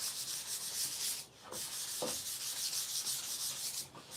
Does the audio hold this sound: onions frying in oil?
no